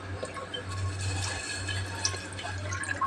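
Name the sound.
milk being poured into boiling tea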